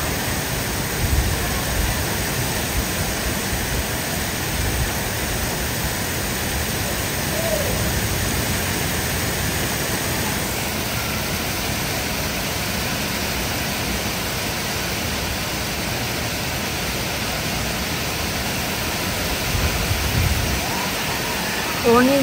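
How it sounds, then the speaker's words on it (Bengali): Heavy summer rain pours steadily outside an open window in an American parking area, a loud, unbroken wash of noise that continues for the whole stretch. "অনেক জোরে বৃষ্টি হচ্ছে"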